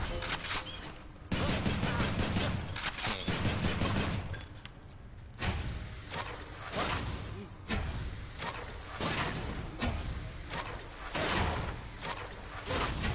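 A rail gun, the Exagryph, fires in the Hades video game as repeated bursts of rapid shots in several clusters with short pauses between, loud and close, while a voice talks faintly underneath.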